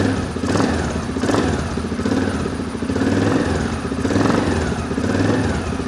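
Small engine of a Suzuki King Quad 750 ATV, freshly rebuilt, running steadily nearby, a rough, clattery idle with a rhythmic pulsing throb.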